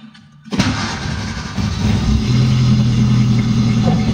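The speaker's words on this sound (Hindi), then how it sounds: "मैं आप गाड़ी को स्टार्ट करता हूँ" A car engine cranks briefly and catches after a short pause, then settles into a steady, loud idle that rises slightly before holding even; the car has its check engine light on.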